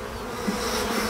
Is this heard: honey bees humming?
yes